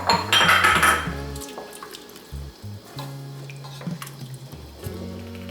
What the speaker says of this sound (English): I'm adding leftover clam juice from my previous recipe because I only used 1 bottle